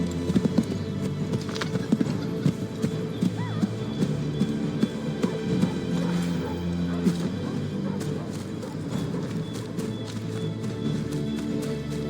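Horse hooves clip-clop steadily as a rider travels on horseback in the video game Assassin's Creed III, a busy, continuous patter of hoofbeats with occasional voices and game sounds underneath.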